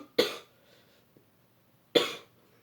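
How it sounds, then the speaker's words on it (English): Two sharp coughs about two seconds apart, close and fairly loud, with quiet between them. "you'll know why I'm coughing a lot"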